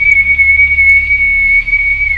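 A single sustained whistle holds one steady high pitch with no break, then dips briefly at the very end, over a low background hum in the woods at night.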